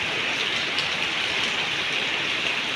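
Heavy rain pours down in a continuous, uniform wash of spattering drops, close and steady from start to finish, with no other sounds standing out.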